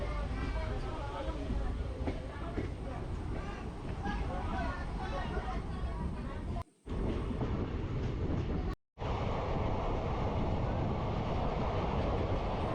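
Aboard an express train running from Kurnool toward Guntur, a steady loud rumble of wheels and carriage rattle fills the scene, with a rhythmic clatter, murmuring voices nearby and two brief cutouts of sound.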